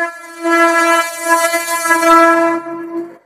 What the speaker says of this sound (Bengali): কি আওয়াজ করতে করতে ট্রেন আসে, মাঝে মাঝে তো 1 ইঞ্চি হর্ন দেয় না